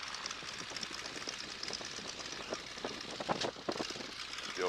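A Boeing Stearman biplane engine idles on the runway with a steady rough mechanical rumble and rapid rattling pulses, heard at moderate distance without talk.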